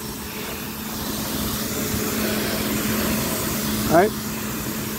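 A pressure washer with a swivel tip sprays an HVAC condenser coil, a steady rushing hiss with a low hum running throughout, and a brief spoken word near the end.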